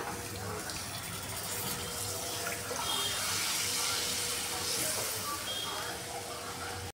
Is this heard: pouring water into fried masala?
yes